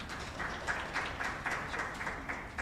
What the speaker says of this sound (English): We're going to give a round of applause as we welcome our Professor Angelo Dube.